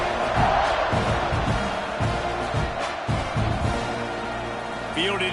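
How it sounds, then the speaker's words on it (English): College football stadium crowd in a video game before a kickoff, a broad steady roar with rhythmic chant-like swells beneath commentary voices. "this crowd now ready to get behind them"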